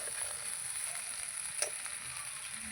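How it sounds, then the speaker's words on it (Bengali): Potatoes and spices frying in a pan for a spicy crab curry give a quiet, steady sizzle with faint crackle and one brief clink partway through, with no voices. "তার সঙ্গে আলু মশলা কষিয়ে নিয়েছি"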